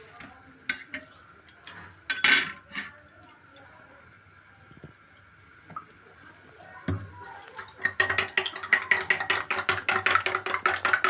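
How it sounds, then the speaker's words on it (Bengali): A utensil whisks eggs with salt and a little oil in a bowl for an egg roll, with scattered clinks and taps, then a fast, steady run of rhythmic beating strokes growing louder toward the end. "দেখতে পাচ্ছেন ডিমটা ভালো করে ফেটিয়ে নিচ্ছি।"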